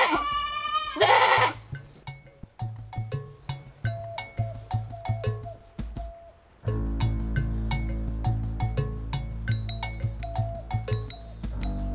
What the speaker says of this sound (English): Doesn't that sound like a goat?